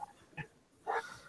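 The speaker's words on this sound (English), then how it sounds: "Someone's puppy is hungry." A hungry puppy across the road gives a few short, high, squealing cries, faint and distant, spaced out over a quiet background.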